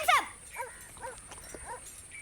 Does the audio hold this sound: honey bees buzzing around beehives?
no